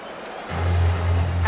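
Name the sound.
London crowd cheering at UFC fight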